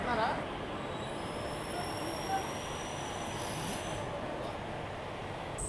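The Narasapur-Cherlapalli express arrives at station platform 1 on its inaugural run, a continuous low rumble with faint high squeals of wheels and brakes throughout.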